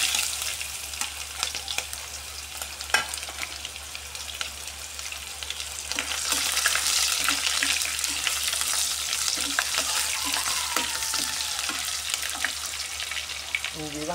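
Garlic and onion sizzle in hot cooking oil for Ilocano-style ginisang munggo, a steady broadband frying hiss that swells louder about halfway through as the aromatics hit the pan, with faint stirring clicks.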